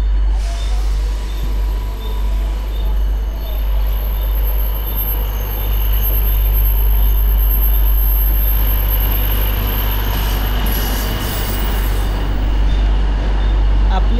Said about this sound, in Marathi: प्लॅटफॉर्म क्रमांक 1 वर आलेली लोकल 12:49 ट्रेनमधून प्रवास